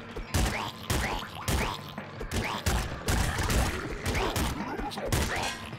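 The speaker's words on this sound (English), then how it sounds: "I can't believe you kept shooting, dude." Rapid gunfire in the video game Nuclear Throne: repeated loud bursts of shots every half second or so, dense and continuous across the whole stretch, with game effects mixed in.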